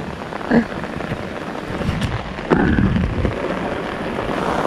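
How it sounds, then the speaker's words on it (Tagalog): Heavy rain pours down steadily outdoors beside a fishing spot, a dense, continuous hiss with a few louder splashes and thumps partway through, and no voices over it. "Lakas na ulan."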